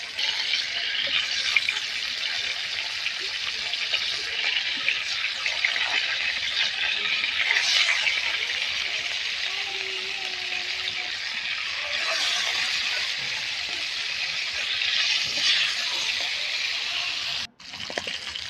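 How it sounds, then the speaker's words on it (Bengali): Fish frying in hot oil in a wok produces a continuous bright hissing sizzle with gentle surges and a brief dip near the end, steady and close with no one talking. "মাছগুলো তো আমার ভালোভাবে উল্টে পাল্টে ভাজা হয়ে গেছে"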